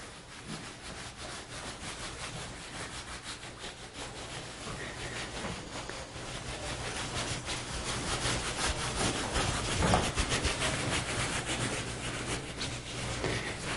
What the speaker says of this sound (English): you're going to scrub your rib cage